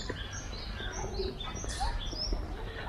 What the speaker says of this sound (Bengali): চারিদিকে পাখির ডাক